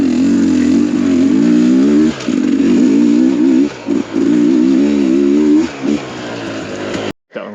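Motorcycle engine fitted with a Lectron carburetor revving hard in second gear, a loud buzzing drone with brief throttle dips and a sudden cut near the end.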